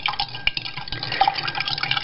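Water is added to pesto pasta and stirred, making short wet splashes and clinking scrapes in an uneven rhythm, close by.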